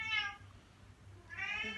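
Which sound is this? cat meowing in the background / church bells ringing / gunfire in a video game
cat meowing in the background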